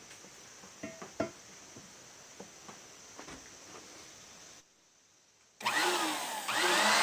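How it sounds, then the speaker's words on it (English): A power drill bores a hole for a propane fire pit valve, starting with scattered handling clicks and taps, a brief silence, then a loud steady whirring drone that continues to the end. "Good idea is to spray oil whenever you're drilling."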